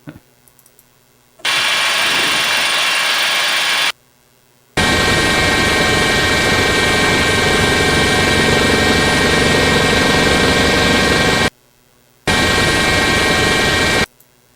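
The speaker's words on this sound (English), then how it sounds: "that's just a helicopter" A loud helicopter thrums close by in long stretches, its rotor drone cutting off abruptly twice into near silence before resuming.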